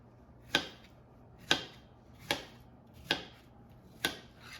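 A knife slicing through dragon fruit, five crisp cuts at steady intervals of about a second, close and clear with no talking.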